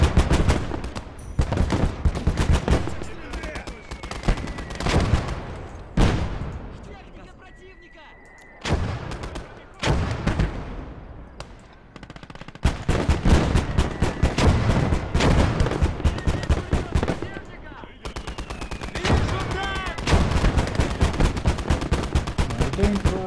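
Mortar blasts and rattling gunfire from a Close Combat battle on the Russian front, with repeated booms and bursts of shots packed densely across the whole stretch, loud and continuous, while a voice talks over the combat.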